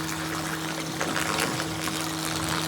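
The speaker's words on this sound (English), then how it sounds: "it really gives me a good jet stream of water to actually create this swirling effect" A steady jet of water rushing into an aquaponic tank to create a swirling flow, a constant close hiss and gurgle with a faint pump hum underneath.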